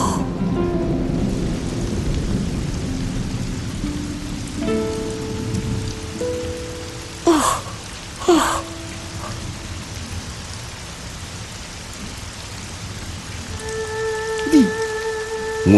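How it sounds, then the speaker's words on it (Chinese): A thunderstorm in a dramatic scene: steady rain hissing on surfaces throughout, with a couple of sharp close thunder cracks in the middle and another near the end, under sustained tonal background music. "雷电又来了！"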